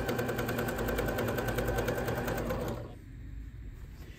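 A sewing machine stitches a hem on a pair of shorts, giving a fast, steady mechanical whirr of needle strokes close up, which stops abruptly near the end, leaving quiet room tone.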